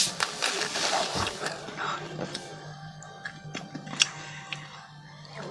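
Someone chews a Mentos-like chocolate candy bought in Thailand, with soft crunchy bites and crackles fading over a few seconds, close to the mouth and with no talking.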